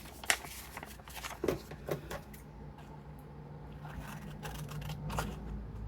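Several crisp scissor snips cut flaps off a paper envelope, with rustling and handling between the cuts, close and fairly loud.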